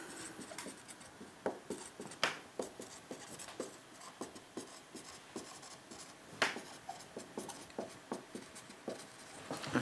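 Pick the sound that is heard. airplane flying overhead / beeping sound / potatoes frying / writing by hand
writing by hand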